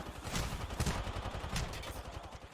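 Rapid gunfire in an Apex Legends ranked match, bursts of shots close together in a steady rattling rhythm across the whole stretch, fairly loud with no talk over it.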